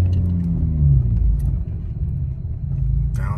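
Engine of a 2015-or-later Chrysler 200 with paddle shifters rumbles steadily nearby, its low tone dropping as it downshifts early on, with a brief higher whir near the end.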